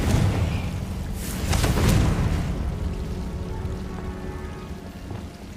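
Confringo explosive spell cast in the video game Hogwarts Legacy, a rumbling blast followed by a crackling burst and a lingering noisy roar that slowly fades, fairly loud.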